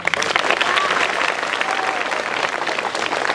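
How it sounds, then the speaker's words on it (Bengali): Audience clapping at a student merit award ceremony in a village setting, a dense, steady burst of applause filling the whole moment, loud and close with some crowd murmur. "জোরে করো তালি"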